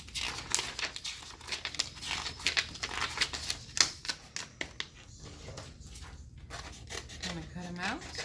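Scissors snipping through stacked paper sheets while cutting out big craft flowers, with crisp crinkling and rustling in irregular bursts up close, and a brief voice near the end.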